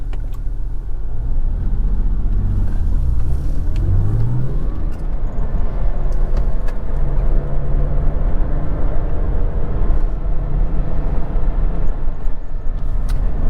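A Porsche Carrera 4S runs along mountain roads, its engine a loud, steady close rumble with a rising rev early on, then holding a constant drone under faint wind noise.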